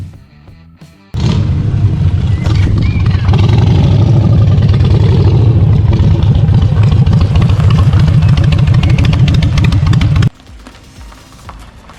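A Harley-Davidson motorcycle engine runs loudly and steadily for several seconds while riding, with rough revving texture, then cuts to quieter background.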